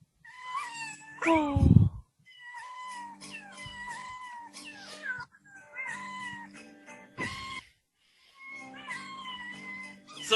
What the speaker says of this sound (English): some of those cats had a little bit of in-house sweetening.